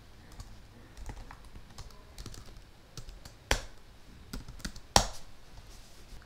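Keystrokes on a computer keyboard entering a terminal command, a quiet run of soft irregular clicks with two sharper, louder taps near the end and no talking.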